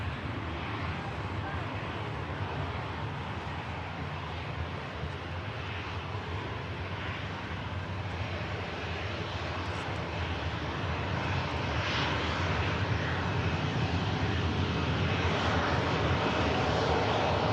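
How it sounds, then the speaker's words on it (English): An Aer Lingus Airbus A321neo XLR airliner arrives from Dublin, its steady engine roar heard from a distance and swelling slightly toward the end, with a voice talking over it. "Next in, Lingus A321 Neo XLR"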